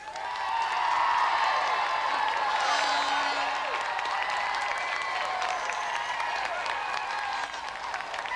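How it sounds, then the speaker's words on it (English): A television studio audience on the 1993 GamesMaster show claps loudly and continuously, a dense wash of applause with a few cheers mixed in that carries on for about eight seconds and eases slightly near the end. "Let's have another round of applause for Dean Mortlock and Paul Mellerick."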